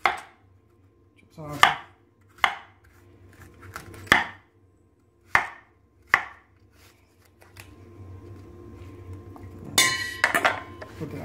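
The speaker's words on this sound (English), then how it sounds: "we're gonna chop a couple of pieces of apple here" Apple pieces chopped with a knife on a cutting board, about six sharp separate knocks spaced roughly a second apart, followed by a brief clatter of dishes near the end; one short spoken word.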